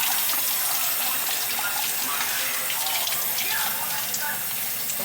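Tap water runs steadily and loudly for the whole stretch, a broad continuous splashing rush with no break, close by and filling the space.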